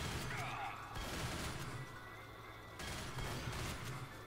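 Guns fire in Left 4 Dead 2 in dense, overlapping bursts of shots, loud and continuous, with a few sharper spikes; voices talk over the shooting.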